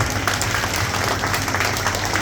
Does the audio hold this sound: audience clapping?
yes